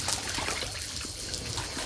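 Water from a shower runs steadily into a puddle, a continuous close splashing trickle with no talk over it.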